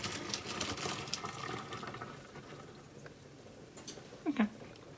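Pasta cooking water poured from a pot into a deep sink, a soft uneven splashing and draining that tapers off, ending with a short clatter, fairly faint.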